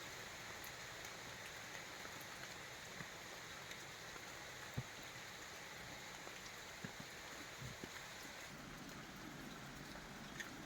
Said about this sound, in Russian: Дождь очень сильно такой.